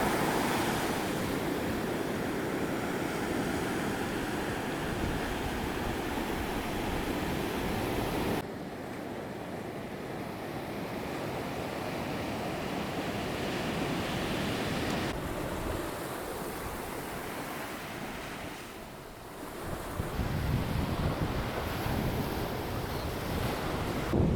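Steady roar of surf on a beach in Lombok, Indonesia, waves breaking and washing in continuously with wind buffeting the microphone.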